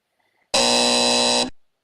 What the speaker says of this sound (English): Buzzer on that one.